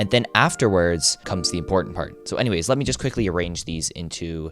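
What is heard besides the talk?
None of the usual background noises is heard.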